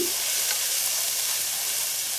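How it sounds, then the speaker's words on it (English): Steady, close sizzling of broccoli and asparagus frying in a hot pan, a continuous bright hiss with a brief stir at the start. "Let's hear that nice stuff sizzling away."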